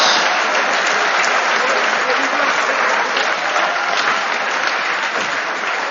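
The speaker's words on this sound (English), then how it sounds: "Ladies and gentlemen, please give these players and coaches a well-deserved round of applause." A crowd in a high school gym applauds boys varsity basketball players and coaches: steady, dense clapping that holds evenly for the whole stretch with no pauses.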